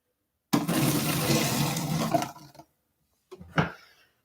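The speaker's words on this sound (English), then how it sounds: "Okay, here's water. Can I pour this in the garbage?" Water poured out of a container into a garbage bin, a loud steady splashing gush lasting about two seconds, then a short gurgling trickle and a final splash.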